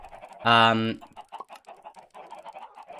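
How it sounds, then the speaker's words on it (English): Chickens in a Minecraft-style game cluck close by, one loud harmonic squawk followed by a quick run of softer, choppy clucks. "these chickens are really making me annoyed."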